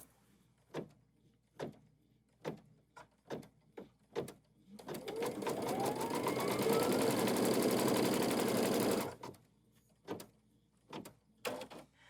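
An embroidery sewing machine stitches a fall-leaves quilt block held in the hoop, a steady dense whirring run of about four seconds in the middle, with sharp clicks and taps before and after.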